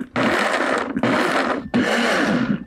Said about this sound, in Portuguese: para o meu liquidificador, vou começar sempre usando aquela função pulsar.